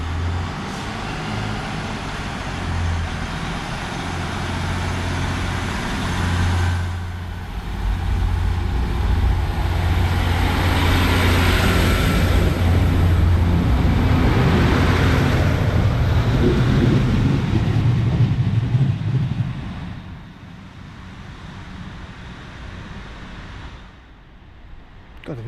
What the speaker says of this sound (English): departing out now is 156 490 to Bishop Auckland.